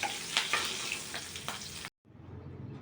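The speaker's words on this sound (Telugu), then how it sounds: "పోపు వేగింది, ఎండుమిరపకాయలు వేగాయి, పచ్చిమిరపకాయ వేసుకున్నాము, వేగిపోతుంది." Dried red chillies, green chillies and curry leaves sizzle and crackle in hot oil as a tempering for a bel fruit and yogurt dish, a close frying hiss that cuts off sharply before resuming more faintly, with no talk.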